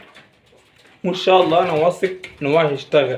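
Domestic pigeons cooing in a loft, a low warbling coo that comes in close, steady bursts while someone talks over them.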